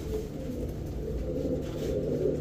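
Silver pigeons coo softly and continuously, a low throaty murmur close by with no other sounds.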